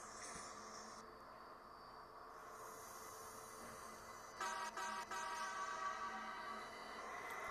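A São Paulo metro Frota J train sounds its horn as it departs Vila Madalena station on Line 2 Green, giving a brief pair of toots over a steady hiss of station and train noise.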